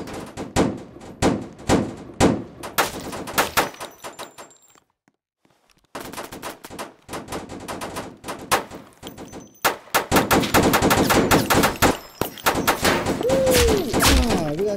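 Kel-Tec gunfire in a Roblox hood-style game: rapid bursts of sharp, close shots in quick clusters, a brief silent gap midway, then heavier continuous firing with a faint tone near the end.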